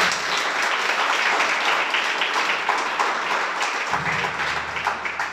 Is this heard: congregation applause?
yes